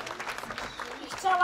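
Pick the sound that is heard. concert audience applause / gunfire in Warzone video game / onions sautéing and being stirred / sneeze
concert audience applause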